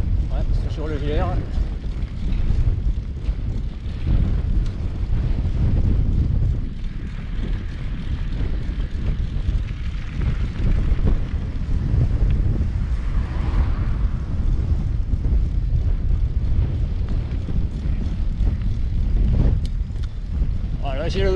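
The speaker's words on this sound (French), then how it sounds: "J'ai le vent de face." Constant headwind buffeting a microphone while mountain biking along the coast from La Hume to Arcachon, in heavy low roaring gusts, with occasional faint voices underneath, the rush never letting up.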